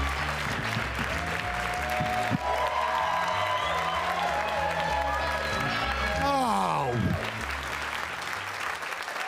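A stand-up comedy crowd in New York claps and cheers loudly as a comedian takes the stage, with whoops and a rising whistle-like shout over steady applause amid music.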